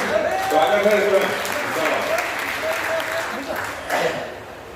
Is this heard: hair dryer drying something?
no